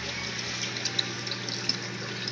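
A makeshift gravel vacuum and water polisher returns filtered aquarium water into the tank through a spray bar, giving a steady, close splashing and gushing of water with small bubbly pops and no talk.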